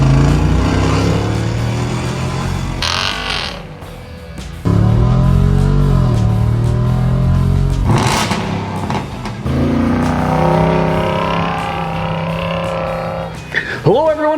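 Jeep Wrangler 392 V8 engine, loud and near, with a deep rumbling idle, sharp revs and blips breaking in between, and short gaps where the note drops.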